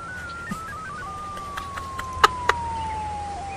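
Faint wailing police car siren in a video game, a thin sweeping tone gliding slowly downward with a few short clicks and blips over a quiet background.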